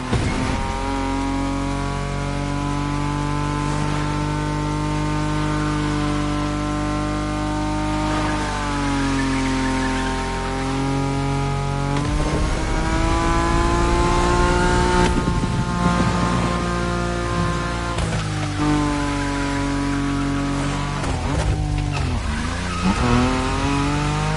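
BMW M5 Drift Edition drifting on a video game track, with a loud, sustained engine note that rises and falls with revs and long tire squeals running under it the whole time.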